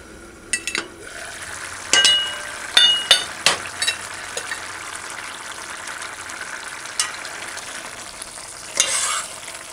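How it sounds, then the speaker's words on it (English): Conch butter bean curry stew being stirred in a pot, with spoon scrapes and clinks over a steady low sizzle, several distinct stirring strokes close by and no talk. "Stir gently."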